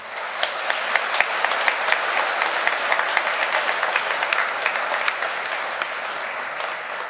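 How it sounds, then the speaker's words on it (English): A church congregation at an Easter Vigil Mass applauds in a sustained, dense burst of clapping that lasts several seconds and fades slightly at the end, with no voices heard over it. "I hope Adrian heard this clapping."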